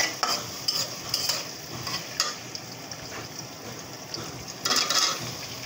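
Chili, onion and garlic sizzling in a pan as they are stirred, a steady soft frying hiss with intermittent scraping strokes of a spoon, close and fairly quiet.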